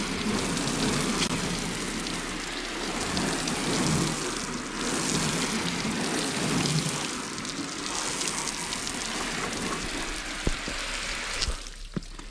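A steady hiss of water spraying onto a car patters against its surface for several seconds, continuous and fairly close, with a couple of faint knocks near the end.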